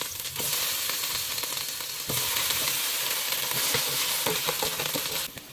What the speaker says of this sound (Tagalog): Tsaka yung chicken i-fry natin dito sa garlic at saka onion.